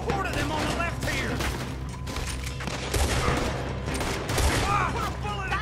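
Rapid gunfire crackles in the Western video game Red Dead Redemption as a horde closes in, with repeated sharp shots and bursts at an irregular pace and a few heavier booms underneath.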